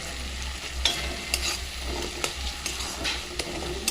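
Softened tomatoes frying with a little sugar for an egg curry, a continuous moderate sizzle punctuated by regular clicks and scrapes of a stirring spoon.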